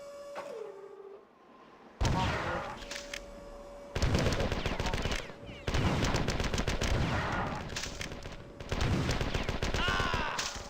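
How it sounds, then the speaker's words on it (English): Gunfire in the game Marathon 2: Durandal, loud rapid bursts of repeated blasts in several separate volleys after a quiet mechanical hum, close and dominant. "Using the shotgun now."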